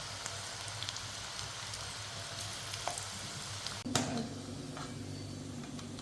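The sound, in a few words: bitter gourd pieces deep-frying in oil like vada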